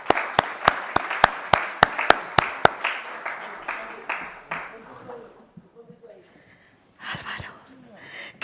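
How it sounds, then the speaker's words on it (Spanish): A burst of sharp, evenly spaced claps rings out in a brief round of applause at a literary award ceremony in Madrid, fading after a few seconds into quieter room noise and a murmur. "Un aplauso, por favor."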